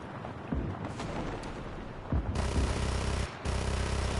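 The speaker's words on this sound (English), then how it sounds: "Ah, they're shooting me." Enemy gunfire and missile fire aimed at the player in Just Cause 3: a dense fusillade of shots and booming blasts over a continuous roar, loud and close, with no talking.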